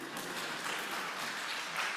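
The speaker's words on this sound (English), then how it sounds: "Now you can clap." Church congregation clapping together after a service prayer, a dense steady burst of applause filling a large room, close and continuous with no talk.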